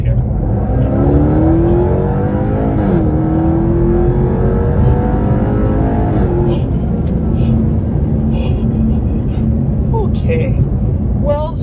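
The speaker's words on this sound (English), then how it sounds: "I'm going to gas it here." A Jaguar XE SV Project 8 sedan's V8 engine accelerates hard in race mode, its loud close exhaust note climbing through the revs with gear changes, while a person talks over it.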